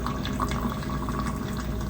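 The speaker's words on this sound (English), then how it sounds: "Okay, so we'll just water all around really good." Water poured around a freshly repotted plant in a pon and charcoal mix, a steady close trickling and splashing that runs continuously without talk.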